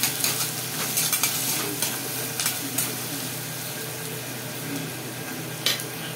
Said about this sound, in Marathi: आता कांदे घालूया तेलात आपण. याला मस्त लाल होऊ द्यायचं.